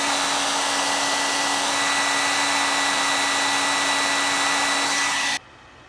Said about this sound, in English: get your hair dryer on it